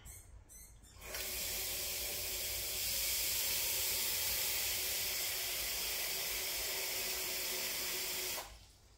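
Tap water gushes steadily into a saucepan for about seven seconds, a loud, even hiss and splash that starts and stops sharply.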